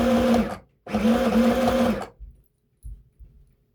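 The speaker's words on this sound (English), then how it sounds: "So let's do the first stitch, back stitch." A sewing machine runs a back stitch on a red cotton skirt, two loud bursts of steady motor whir with a short pause between, then a few soft clicks and handling noises.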